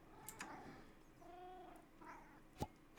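Cats in Minecraft give soft, overlapping meows and purring mews at a moderate distance over a steady background hum, with a sharp click near the end.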